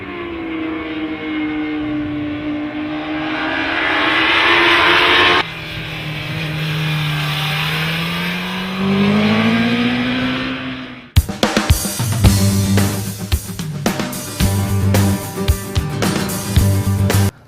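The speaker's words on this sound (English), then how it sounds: "This thing, the front end comes up in second gear pretty easy." A 2008 Honda CBR1000RR sportbike accelerates hard in second gear with the front wheel lifting, its engine note rising through several climbs, then cutting to a loud close-up, rough rumbling section.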